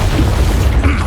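An Expulso spell blast from the video game Hogwarts Legacy: a loud, dense explosive rumble that booms steadily through the whole moment with a heavy low end and no pause.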